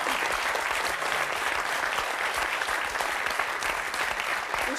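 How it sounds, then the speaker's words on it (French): A studio audience at a French comedy talk show claps in a sustained round of applause, dense and even throughout, with a faint low murmur underneath and no clear speech. "peut consacrer une salve d'applaudissements à tous ceux qui écrivent"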